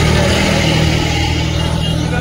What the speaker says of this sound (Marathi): ट्रॅफिक मध्ये आहे. फुल ट्रॅफिक आहे.